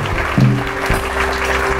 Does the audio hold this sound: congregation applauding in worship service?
yes